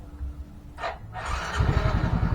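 A Yamaha Soul GT 115 motorcycle engine cranks and catches, rising into a low, uneven idle after a short whirring start, heard close up.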